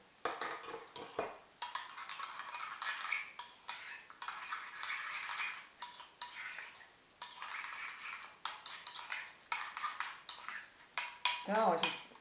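A spoon scrapes and clinks against a bowl as strawberry gelatin powder and water are stirred continuously, quiet and close, in an uneven rhythm.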